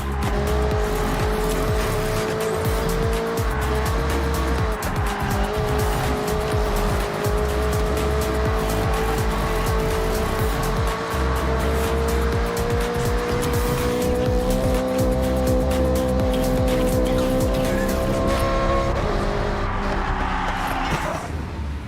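Racing car engines in Forza Horizon 6, a loud sustained roar with rising and falling revs and tyre squeal, continuous throughout.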